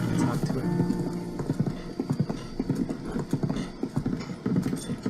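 Steady clip-clop of horse hooves in The Legend of Zelda: Breath of the Wild, a close, even walking rhythm that continues throughout with faint background ambience.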